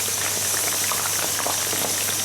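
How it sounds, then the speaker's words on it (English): Potato crisps deep fry in hot oil, a loud dense bubbling hiss that runs continuously with fine crackles throughout, close up and without any voices. "I think they are like deep frying stuff."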